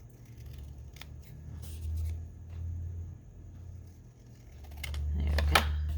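Scissors snip through folded paper while a corner page marker is trimmed, a few short crisp cuts scattered over low handling rustle and faint background rumble, close to the listener.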